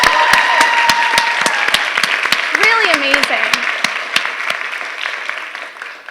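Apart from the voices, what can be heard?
audience applause for presenters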